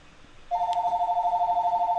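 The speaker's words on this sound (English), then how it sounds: "Yes, the house phone." A house telephone rings in a steady, loud electronic trill that begins halfway through and continues unbroken to the end, close by in an otherwise quiet indoor room during an interview.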